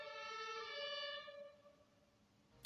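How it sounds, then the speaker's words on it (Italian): Ambulance siren wailing outside in a steady two-tone pattern, fairly loud at first and then fading as it passes into the distance, with a brief sharp noise at the very end. "Maledizione ambulanza."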